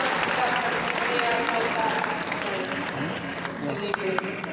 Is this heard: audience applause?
yes